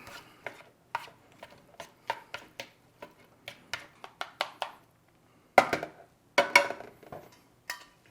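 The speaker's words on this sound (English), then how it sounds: "And we just mix all that in." Dry seasonings are mixed into an Australian PR1M patrol ration meal with quick scraping and tapping strokes of a utensil against the container, coming in rapid bursts with short pauses.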